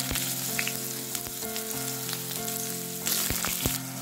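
Large potato chunks frying in mustard oil over a medium flame make a dense, close crackling sizzle throughout, with sharp pops and a few utensil taps; no voices.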